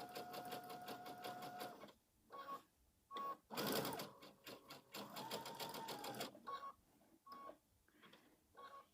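A sewing machine runs in bursts of zigzag stitching on a spooky felt door hanger for kids, motor whirring loud and close, pausing briefly between runs with short beeps.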